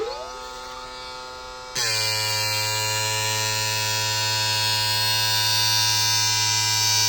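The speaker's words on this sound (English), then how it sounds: "Here it's starting to grind." Bauer Prosharp Advantage skate sharpener starts grinding a skate blade, a quieter electric whine suddenly jumping to a loud steady motor hum with a high grinding buzz that holds on.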